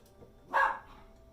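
A dog gives one short bark at moderate distance in a home kitchen, with faint background noise before and after.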